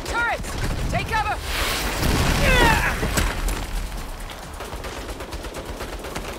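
Rapid turret gunfire and explosions in the video game Saints Row, dense bursts of shots and booms over a busy battle din, with shouted voices.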